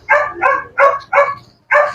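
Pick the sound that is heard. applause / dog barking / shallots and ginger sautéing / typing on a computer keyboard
dog barking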